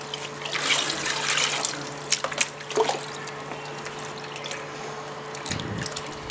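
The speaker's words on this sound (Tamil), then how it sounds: "கொஞ்சம் தண்ணி மிக்ஸ் பண்ணிவிட்டு அவங்க கலக்கிடுறாங்க." Water poured and stirred into terrace primer for roof coating, with splashing and trickling in brief bursts, fairly close and alone.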